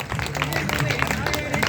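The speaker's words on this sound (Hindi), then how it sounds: "जब जोरदार ताली" An audience claps loudly at a Ramlila committee award distribution and closing ceremony, a dense, continuous wash of close applause mixed with crowd noise and voices.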